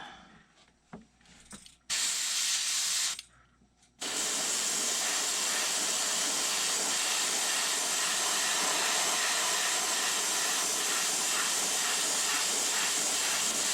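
Heat gun blowing hot air to heat-set paint, a loud steady broadband hiss that starts and stops twice briefly before running continuously at close range, with no talking.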